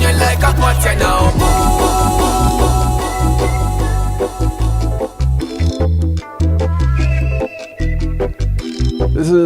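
A song by a Portuguese artist plays loud and full, with a steady heavy bass beat, dense layered melody, and brief drops where the bass cuts out near the end.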